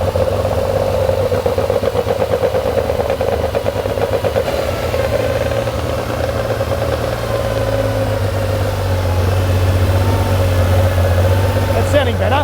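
A Porsche 911 2.8 RSR engine idles with an uneven, loping beat that hints at a misfiring cylinder, running steadily and loudly throughout, with its note shifting slightly partway through, while a person talks over it.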